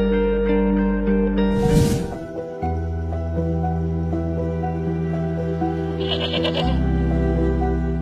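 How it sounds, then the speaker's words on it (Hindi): A goat bought at a livestock market gives two short bleats, one early and one near the end, over steady tonal background music. "एक बकरी खरीदी है मंडी से और वो मुलाजिम लेकर आ रहा है पीछे"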